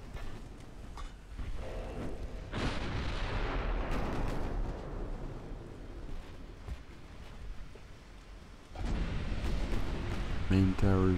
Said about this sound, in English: I think those are 5-inch shots.